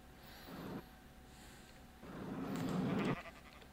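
Sheep-like bleating from a creature in the video game Infinity One: two bleats, a short one and then a longer, louder, nasal cry, close and alone with no talk over them.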